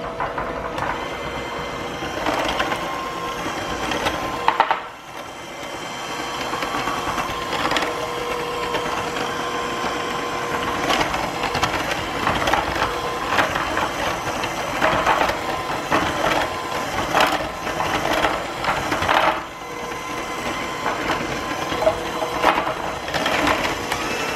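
An electric mixer whips coffee in a bowl at rising speed, giving a steady, close, loud mechanical whir with rhythmic rattling that keeps going the whole time, dipping briefly near the start and again later.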